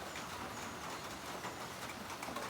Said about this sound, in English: You can hear that it's raining.